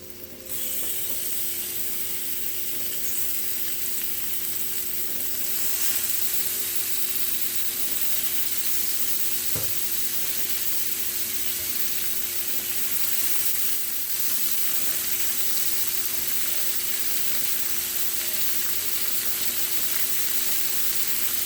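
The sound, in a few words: shrimp sizzling in a hot skillet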